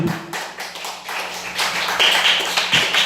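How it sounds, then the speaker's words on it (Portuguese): Worshippers in a Portuguese-speaking church clap for Jesus. The sustained, moderately loud patter of many hands swells slightly toward the end, with no talk on top. "Podeis assentar e aplaudir Jesus, Ele merece."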